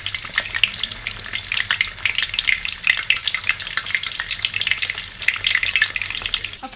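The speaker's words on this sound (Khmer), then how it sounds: "ពេលកំពុងចៀនត្រី" Pieces of Wallago attu fish fry in hot oil in a pan, a dense, close and continuous crackling sizzle that stays fairly even throughout.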